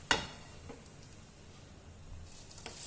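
Pizza paratha parcels frying in a pan over medium heat, a soft, steady sizzle with a few sharper crackles and clinks, heard close with no talking.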